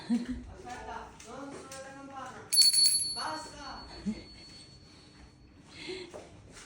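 A hand bell rung in a home kitchen to call people, a brief bright ringing burst close by, sandwiched between quiet talk.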